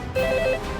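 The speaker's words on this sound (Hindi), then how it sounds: "रिंग तो जा रही है।" A brief electronic telephone ring, a steady warbling two-tone trill lasting under a second, moderately loud over faint background noise.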